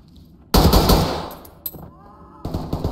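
Close, loud bursts of automatic gunfire in the tactical shooter game Ready or Not: a heavy rattling volley, a short shot after a pause, then another burst, with brief quiet gaps between.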